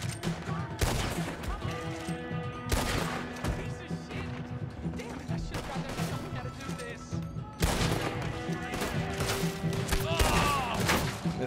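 Bursts of repeater rifle fire and gunshots crack in the Red Dead Online video game, a dense barrage of loud reports with booms and thuds that lasts throughout.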